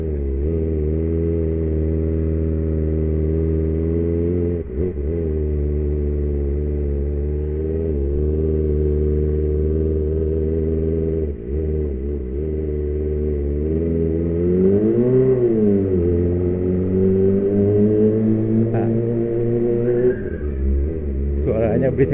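A loud Kawasaki ZX-25R motorcycle with an Austin Racing exhaust, throaty, rumbling steadily and rising in pitch as the throttle opens, continuous throughout, in a residential neighborhood.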